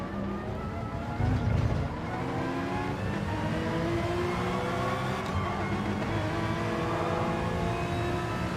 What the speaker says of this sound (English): You can already hear your car shifting all wrong